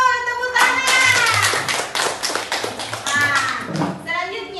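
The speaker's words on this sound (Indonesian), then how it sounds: "Tepuk tangan." Children in an Islamic studies class clap together in a brief round, the claps light and scattered beneath a teacher's and pupils' voices.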